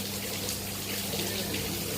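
Rainwater from an overnight thunderstorm streams down a building's staircase, a continuous rushing pour and trickle of water heard close and steady.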